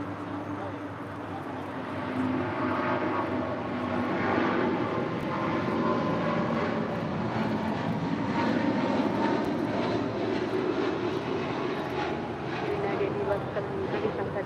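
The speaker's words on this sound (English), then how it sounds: "United Airlines 1170 now rolling on 25 right, a 777-200 departing to Honolulu." A United Airlines Boeing 777-200 jet rolls for takeoff on runway 25 right at LAX, bound for Honolulu, a steady loud engine roar rising and holding throughout with a faint radio voice in the background.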